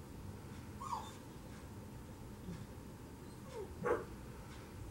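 Dogs barking faintly in the distance, with two short yelping barks standing out from a low steady background.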